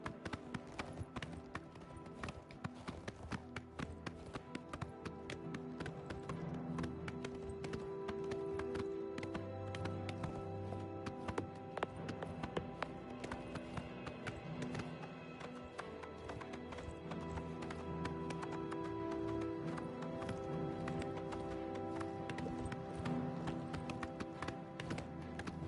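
Horse hooves clip-clopping steadily and continuously while riding in the video game Oblivion Remastered, with game music and ambient sound running underneath throughout.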